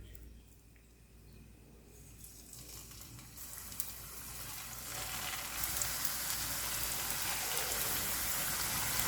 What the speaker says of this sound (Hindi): अब मैं इसको दोनों तरफ से फ्राई कर लूँगी गोल्डन ब्राउन होने तक।